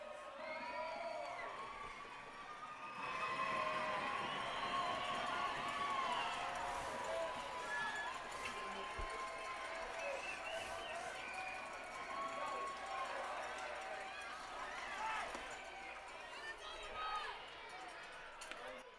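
A baseball stadium crowd cheers during a Pioneers vs. Pilots game as the Pilots are down to their last strike, a sustained roar of many voices with whoops and shouts that swells and holds throughout.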